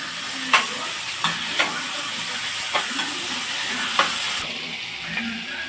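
Tomato, onion and chili fry in a pan with a constant close sizzle, broken by several sharp scraping stirs spaced a second or so apart.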